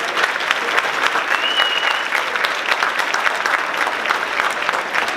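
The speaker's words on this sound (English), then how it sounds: "Let's give him a round of applause." A graduation crowd in Southeast Queens greets a school principal heading to the podium with a sustained round of applause, dense and even clapping with a few cheers mixed in.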